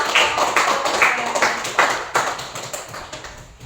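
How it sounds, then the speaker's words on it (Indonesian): Sparse, uneven clapping from a small group after a classroom presentation, a few distinct sharp claps standing out near the listener, with no talk over them. "Kasih tepuk tangan untuk"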